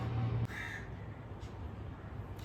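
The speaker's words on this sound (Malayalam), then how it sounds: "ഒരു മെനക്കെട്ട കാക്ക കിടന്ന് കരയുന്നുണ്ട്." A crow caws briefly and somewhat faintly against a constant low electrical hum, with a couple of soft clicks later on and no talking.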